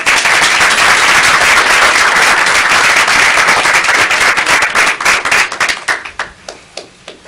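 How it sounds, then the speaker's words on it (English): An audience at a school district meeting breaks into loud, close applause that holds strong for several seconds, then thins out into scattered individual claps and fades. "So we'd like to give them all a round of applause."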